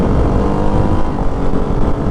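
A 2024 Ducati Hypermotard 698 RVE single-cylinder motorcycle roars loudly and continuously during a quick shift while riding, with dense engine and wind noise throughout.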